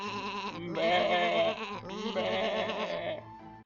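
Several sheep bleat in long, wavering cries, one call after another with a short break between them, loud and close with nobody talking.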